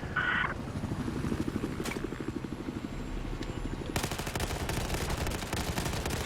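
Rapid bursts of gunfire in the Battlefield 4 video game, close and loud, with repeated automatic volleys and a short beep before a denser, sustained stretch of shooting.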